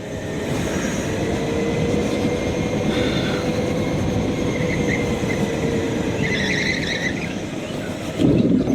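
A racing car's engine drones under steady squealing tyres, then a short heavy thump near the end as it strikes a traffic cone.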